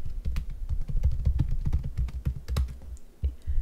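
Typing on a computer keyboard to enter a data set name, a quick near run of crisp key clicks and thumps in an uneven rhythm, alone without talk.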